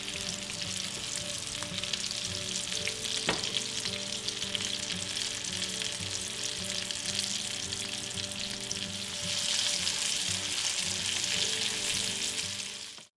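German schnitzels fry steadily in a hot pan, a dense continuous sizzle with a few brief clinks and a steady low hum underneath, growing slightly louder toward the end.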